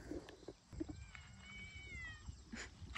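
Two farm cats meow at close range, a few thin rising and falling cries over outdoor rustling and occasional soft knocks, with no talk during the calls.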